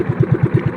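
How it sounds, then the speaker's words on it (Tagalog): Boat engine idling at sea while warming up, a close, steady rhythmic low thumping with even pulses several times a second and no talk over it. "Pakondisyon lang ng makina."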